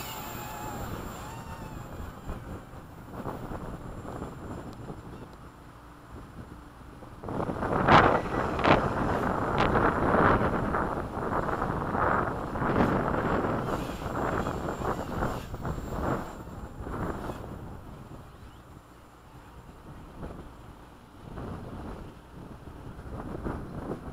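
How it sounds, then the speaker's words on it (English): Strong wind buffeting a microphone outdoors on a windy day while a small Hubsan X4 quadcopter flies: a low, rumbling roar that swells loudly through the middle and then eases, with no talking. "You gotta be careful in this wind."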